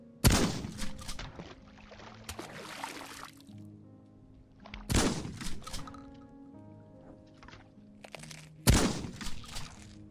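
Creatures being shot in an indie horror video game, with three loud sharp bursts of gunfire spaced a few seconds apart, each followed by ringing tails and clattering game sounds.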